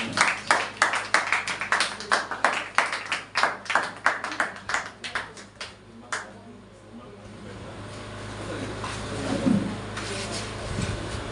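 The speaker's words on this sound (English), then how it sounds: "let's clap for their performance." An audience at a school debate claps in a burst of quick, loud rhythmic claps that fade after several seconds, leaving a quieter room with faint murmuring voices.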